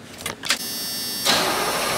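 A tractor engine, its battery recently charged, cranks with a couple of short whirring bursts, then catches and settles into a steady running drone close by.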